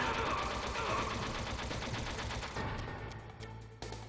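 Dense gunfire rattles through a firefight in Metal Gear Solid on PlayStation, a loud, sustained crackle of rapid shots that thins toward the end, with no clear speech.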